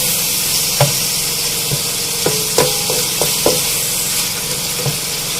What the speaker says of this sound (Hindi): इन सब चीज़ों को साथ में बहुत अच्छी तरह से भूनना है हमें।